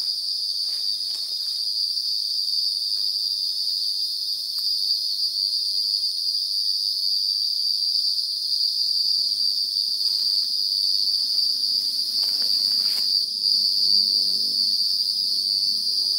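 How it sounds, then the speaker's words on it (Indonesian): Loud, continuous cricket chirping at night, a dense steady trill filling the scene throughout with faint low rustles and movement underneath. "suara jangkriknya bikin kuping pegel"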